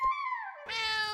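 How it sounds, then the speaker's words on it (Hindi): A cat gives a single clear meow, falling in pitch and then rising into a brighter, strained second part, close and distinct with no talk over it. "तो बिल्ली की आवाज कहां से है?"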